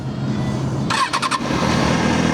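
A Kawasaki Ninja ZX-6R inline-four motorcycle engine turns over briefly with starter whine, then catches and settles into a loud, steady idle, heard up close with no talk.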